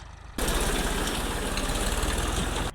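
A tractor engine runs steadily while sowing cumin, rumbling loud and close at a constant idle-like pace after starting abruptly from near quiet.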